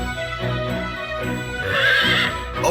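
A horse in the video game Fire Emblem Warriors Three Hopes gives a loud, shaky whinny with rising and falling pitch, heard alone and close with no talk.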